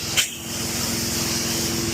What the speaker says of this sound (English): I just had to spray this pollen on my car, man.